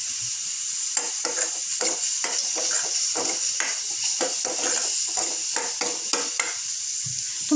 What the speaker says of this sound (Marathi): आता आपण हे व्यवस्थित परतवून घेऊयात आणि 2 मिनिट हे शिजू देऊयात